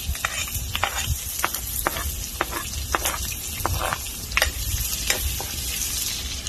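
Onions sautéing in a pan for ginataang kamansi, a steady close sizzle broken by repeated sharp scrapes and clinks of a utensil stirring against the pan, with no voices.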